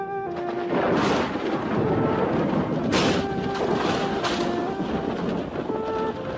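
Thunder rolls over open hills ahead of a storm in dry country, a loud, continuous low rumble swelling in several heavy bursts, with steady musical tones running underneath.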